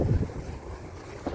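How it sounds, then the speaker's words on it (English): Wind picks up ahead of an approaching storm cell outdoors, buffeting the microphone with a low, uneven rumble that swells in short gusts, with no talking. "Oh yeah, wind's starting to pick up."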